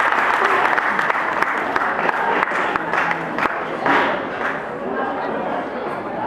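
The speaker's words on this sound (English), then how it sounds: "Let's give Hassan a round of applause." An audience at an inter-school parliamentary debate competition applauds a participant, brisk clapping with scattered cheers that is loudest at first and gradually thins out, with voices mixed in throughout.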